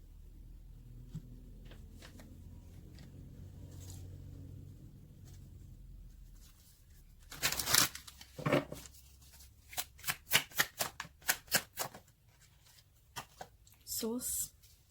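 Tarot cards shuffled and drawn close up, a run of crisp riffling bursts and quick snapping flicks after a quiet stretch of low rumble, with a voice talking faintly in the background.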